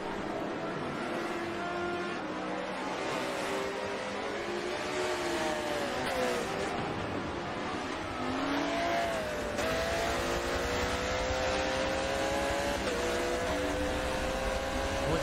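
GT race cars at Sebring roar in a continuous wash of engine noise, revs rising and falling as several cars pass at a distance, with no clear talk.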